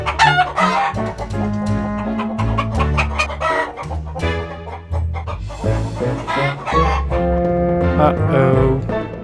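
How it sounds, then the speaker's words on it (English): Chickens cluck and a rooster crows in an animated Thomas & Friends farmyard scene, mixed with busy cartoon music and effects that continue throughout. "And your chickens."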